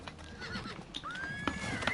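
A horse neighs in the Oblivion Remastered video game, a loud whinny rising then falling, heard alongside clip-clop hoofbeats and combat-like noises close by.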